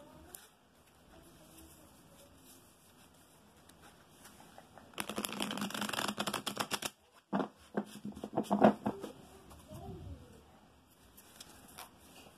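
After a quiet stretch, a deck of playing cards is shuffled in a fast riffling burst, then a few shorter riffles and taps, close and soft.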